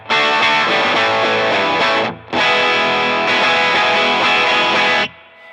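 Electric guitar played through a Mad Driver overdrive pedal, thick distorted chords ringing out loud and sustained, cut off briefly before resuming and then stopping abruptly, with no speech.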